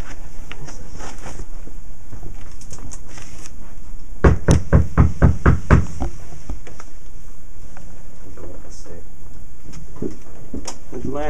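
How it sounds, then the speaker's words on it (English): Around seven quick, sharp knocks on a door come in a tight burst partway through, set against quiet indoor background noise. "is that the door I hear?"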